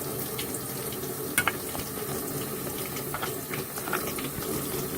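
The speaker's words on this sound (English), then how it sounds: "See? Water." Water runs steadily from a tap into a sink, a continuous close hiss and splash with a few small clunks, no talking over it.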